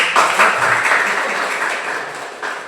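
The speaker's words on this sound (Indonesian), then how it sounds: "Beri aplaus untuk" An audience at a teaching session at Politeknik Negeri Jakarta claps in a sustained, dense round of applause that slowly tapers off, with no talking over it.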